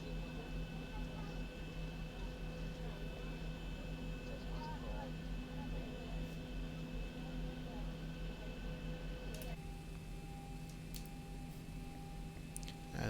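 Boeing 737 taxiing and turning in X-Plane 11, a steady low engine drone with sustained tonal whine and occasional faint clicks, quiet and continuous throughout.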